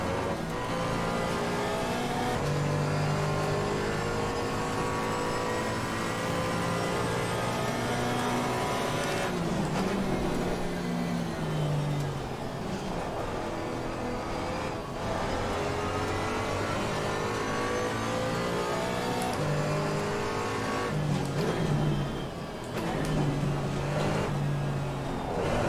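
Race car engine in the Assetto Corsa Competizione sim racing game, loud and continuous, revving up through the gears with repeated shifts and dips as the car brakes and accelerates around the track.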